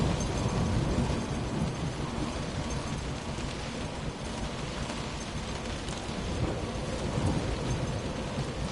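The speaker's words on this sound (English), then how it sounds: "it's clearly raining a lot" Steady heavy downpour with rolling thunder in the video game Close to the Sun, a dense continuous roar of rain that stays loud and unbroken throughout, with no talk.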